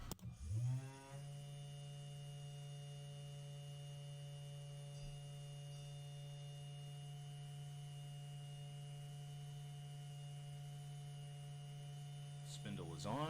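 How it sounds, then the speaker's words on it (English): Spindle of a 3018 CNC router spinning up and then running, a steady loud tonal hum with harmonics held for about twelve seconds before spinning down, with a few faint bumps along the way. "Turn on the spindle."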